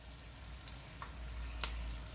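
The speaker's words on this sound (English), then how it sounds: "I'm going to add the fish to the oil" Fish frying in hot oil with onion added for aroma: a short, even sizzle with a couple of sharp pops and spatters, close up and with no voices.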